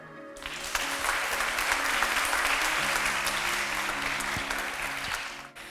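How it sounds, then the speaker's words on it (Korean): Audience applause after a lecture on North Korea and unification, a steady, sustained clapping from a seated crowd that swells quickly, holds evenly for about five seconds, then stops abruptly. "다시 한번 큰 박수 부탁드리겠습니다"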